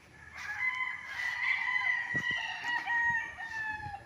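A rooster on a fenced game farm lot in Pagsanjan, Laguna crows loudly and steadily for about four seconds, with a few faint clucks and low farmyard noises underneath.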